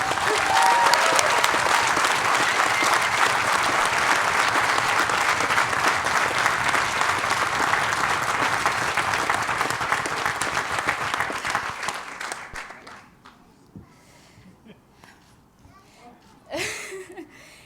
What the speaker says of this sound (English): So let's give a round of applause to Greg.